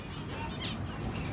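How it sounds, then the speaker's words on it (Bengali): Caged birds chirp in a pet shop, short high tweets scattered over a murmuring indoor background, fairly faint and without clear speech. "কয়েক রকমের পাখি আছে।"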